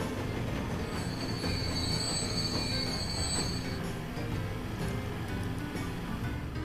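A train runs in the Transport Fever video game, giving a steady, dense rumble of rolling wheels with a thin metallic squeal above it. The noise holds throughout at a moderate level with no voices.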